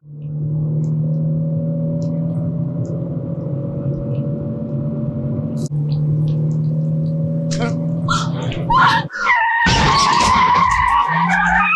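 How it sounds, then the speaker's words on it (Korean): A car drives down a dark, rainy road at night in a film scene, first as a steady engine drone, then shifting into louder chaotic tire and engine noise near the end. Narration runs over it. "비 내리는 어두운 도로 위를 주인공 연지의 차가 달립니다"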